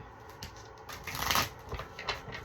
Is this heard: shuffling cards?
yes